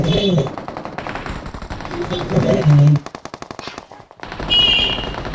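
Rapid machine gun fire in a BGMI shooter game, loud close bursts of rattling shots, broken by a brief gap and then more shooting, with game sounds and a voice mixed in.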